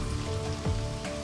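Rain falls steadily in a drama scene, a dense continuous patter with a brief louder splash partway through, no talking over it.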